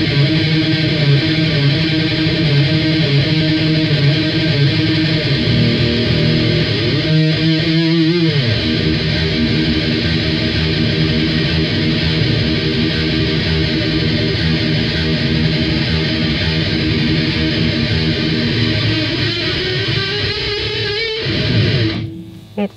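Electric guitar played through a distortion pedal on an EarthQuaker Devices pedalboard, a loud, dense, sustained droning wall of fuzzy noise that shifts slightly and then cuts off abruptly at the end.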